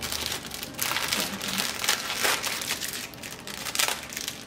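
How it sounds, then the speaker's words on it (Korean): Plastic liner sticking out of a flower basket around floral foam is trimmed and crinkled by hand, giving a close series of irregular rustling crackles and crunching bursts throughout. "이 위에 올라오는 비닐은 너무 길면은 잘라주시면 되시는데요. 너무 긴 부분들은 이렇게 잘라주시고"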